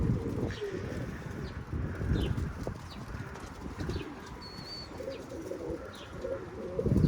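Pigeons on a wall in a storm give soft coos and occasional chirps over steady wind noise, with a hint of wing flapping, moderately distant.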